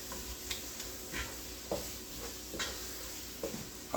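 Ingredients for cheeseburger soup being stirred and broken up in a pan on the stove, with quiet scraping strokes every second or so over a low sizzle, close and soft.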